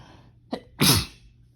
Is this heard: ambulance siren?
no